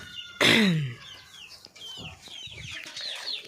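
Chickens in a farm coop clucking and squawking, with one loud close squawk followed by scattered softer clucks and chirps from several birds nearby.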